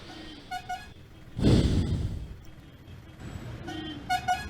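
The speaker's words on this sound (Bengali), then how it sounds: "অনেকক্ষণ থেকে একটা গাড়ি পেছন থেকে হর্ন দিচ্ছে ওভারটেক করার জন্যে।" A car behind honks in short toots to overtake, at the start and again near the end, with a low rush of passing traffic between.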